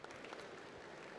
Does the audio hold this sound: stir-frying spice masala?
no